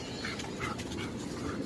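A dog pants and softly whimpers while playing outdoors on artificial turf being installed, quiet breathy sounds with faint high whines close by, alone.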